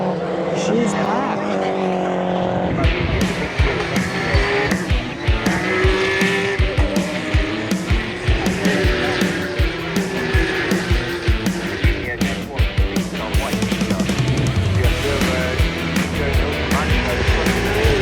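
BTCC touring race car engines roar and rev continuously as cars leave pit lane for the grid, with repeated throttle blips and passing cars, loud and close throughout, crowd ambience beneath.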